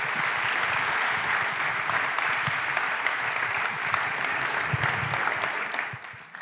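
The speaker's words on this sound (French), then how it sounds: "On vous applaudit une nouvelle fois." Sustained applause from a conference audience at a health forum on autoimmune diseases, a full, even wash of clapping that holds steady for about six seconds before tapering off.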